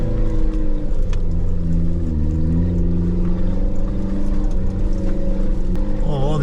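A 4x4 off-road vehicle on a dirt track runs its engine at half throttle, a loud, close, continuous growl that rises and falls slightly as the revs shift, with a brief surge at the end.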